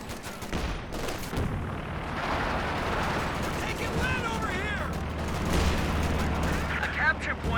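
Artillery barrages in Company of Heroes 2, a Calliope rocket launcher among them, rumble with repeated blasts and crackling fire, loud and continuous, under a commentator's talk.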